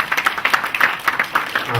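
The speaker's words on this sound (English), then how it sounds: "Let's clap for them." An audience at a Nakuru County sanitation strategy launch claps, a short scattered patter of hands that rises and falls, with speech running underneath.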